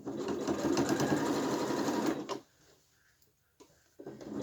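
A sewing machine runs a narrow zigzag stitch on a T-shirt, a fast, close, steady whirr for about two seconds, then stops, followed by brief quiet handling clicks and a short restart.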